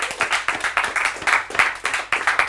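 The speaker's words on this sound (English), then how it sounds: "So round of applause to you guys." Several people at a company account managers meeting clap in bursts close by, a short, uneven round of applause that pulses in rhythm for a couple of seconds.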